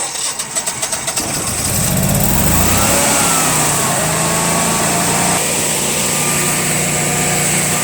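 A Generac Honeywell model 60341 portable generator cranks with a few rapid chugs, catches and revs up, then runs loud and steady while its engine note wavers and sags as it bogs down.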